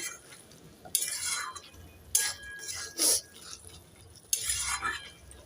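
A spoon stirs taro stolon curry in a pot, made with mustard and poppy seed paste, sounding as a few separate bursts of scraping and clinking against a quiet background, with no talk.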